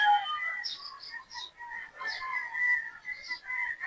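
Sweater breed gamefowl pullets on a game farm call and cluck in a busy chorus of overlapping shrill chirps and crowing-like cries, fairly close and continuous.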